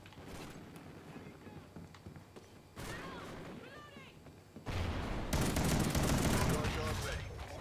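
Automatic gunfire from a bulldog shotgun in Call of Duty Ghosts Cranked multiplayer, close and dense, building into louder sustained bursts alongside other game noise.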